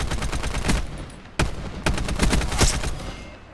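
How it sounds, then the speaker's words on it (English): Submachine gun fire in a shooting video game, rapid bursts of shots with sharp loud cracks over a dense continuous battle din, no talking. "That gun, you don't even aim down sights. That is crazy. And it's an SMG."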